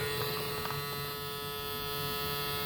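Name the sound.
Extreme Rage paintball hopper motor running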